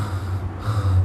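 A voice imitates gentle, soft snoring with a brief, low, raspy breathy snort, close and short.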